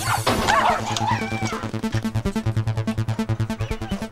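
A young dog yelps and whimpers in high, strained cries, then breaks into a fast, regular run of sharp barks, close and loud, with clattering knocks near the start.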